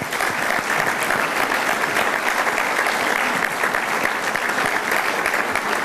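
Sustained applause fills an awards ceremony for the Denton Hurdle Awards as the audience honors the nominees' parents, a dense, steady clapping from a large crowd that holds at even loudness throughout.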